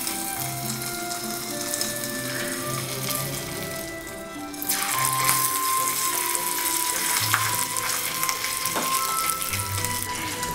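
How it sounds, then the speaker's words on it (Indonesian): Battered shrimp frying in hot oil, a continuous crackling sizzle that swells louder partway through, with faint clinks in the background. "tinggal celupkan udang dan langsung goreng di minyak yang sudah panas"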